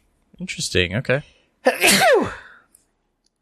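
A single sharp sneeze bursts out right after a few spoken words, close and loud, then fades into quiet.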